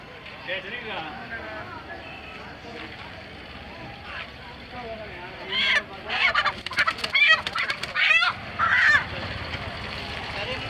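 Chickens and other fowl at a weekly poultry market in Nelamangala, with scattered clucks and squawks that burst out loudly in a cluster near the end, over a constant background of people talking.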